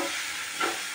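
Cumin powder fries in a pan with a steady, soft sizzling hiss and a single brief stir swelling near the end.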